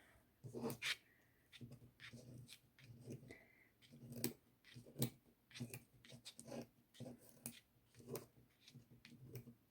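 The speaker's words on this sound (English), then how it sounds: "These are great little scissors. They're cuticle scissors" Small cuticle scissors snip dried flora and silver foil for post earrings, giving a series of crisp, close clicking cuts in an irregular rhythm with quiet pauses between them.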